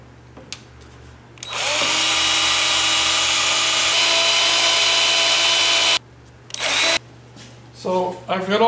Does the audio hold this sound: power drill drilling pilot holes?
yes